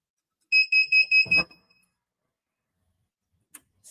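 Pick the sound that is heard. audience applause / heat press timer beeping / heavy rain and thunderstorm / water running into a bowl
heat press timer beeping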